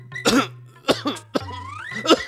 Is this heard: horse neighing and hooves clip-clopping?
no